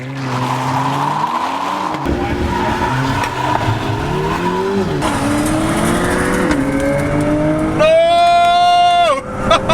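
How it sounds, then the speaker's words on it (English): A Mercedes A45 in 4MATIC all-wheel drive launches hard in a drag race against an Audi RS3 and a BMW M135i in South Africa: a loud, close engine roars and climbs through rising revs with gear changes, then a high whine near the end. "I'm using motion control 4-wheel drive, hopefully I'll get off the line better."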